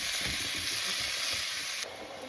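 Potatoes and sliced onions frying together in a pan for a Kerala-style potato stew, a loud, steady, close sizzle with a faint stirring rustle underneath and no voices.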